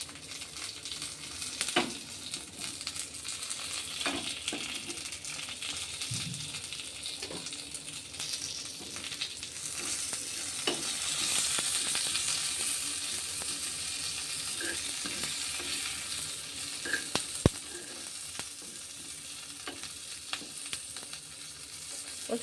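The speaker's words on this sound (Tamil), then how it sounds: "இப்போது கடுகு, சீரகம், கருவேப்பிலை இது 3 சேர்த்துட்டு நல்லா" Mustard seeds, cumin and curry leaves fry in hot oil for a thuthuvalai rasam, giving a steady close sizzle with scattered pops and crackles and occasional stirring clinks throughout.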